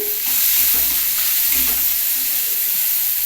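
Onion and cauliflower fry in a pan while a spiced semolina dish is being made. A loud, close, continuous sizzle carries a couple of stirring scrapes, and no one speaks.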